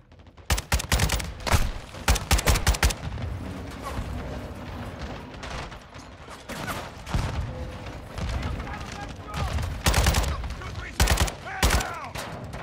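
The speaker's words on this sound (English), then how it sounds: "Incoming! Take cover! They're launching grenades!" Intense gunfire from Call of Duty Modern Warfare II, with sharp bursts of shots, machine-gun fire and booming grenade blasts in clusters, separated by quieter stretches, while voices shout over the combat.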